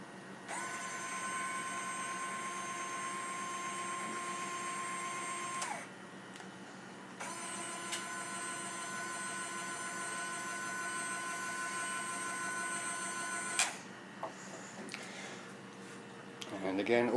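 A winch motor spools out continuously with a steady electric whine that runs for several seconds, pauses, then resumes, sitting close and constant under faint background noise.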